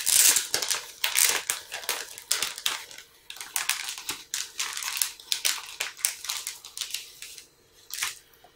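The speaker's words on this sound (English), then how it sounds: "So it'll be resealable bag." Crinkly plastic resealable bag holding a Flyhawk 1/700 HMS Naiad Limited Edition model kit, rustled and crushed in close, irregular bursts as it is opened, with no talking.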